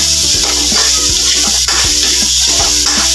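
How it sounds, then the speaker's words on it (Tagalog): Meat sizzles loudly in a hot pan as it is sautéed for adobong sitaw, a constant close frying hiss broken by the soft scrape and knock of a stirring utensil. "Ayan, gisa natin mabuti para masarap"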